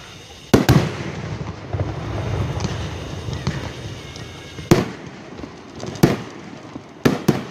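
Fourth of July fireworks show in Booneville in 2017, with sharp booming bursts at intervals over a steady crackling, rumbling background of distant explosions.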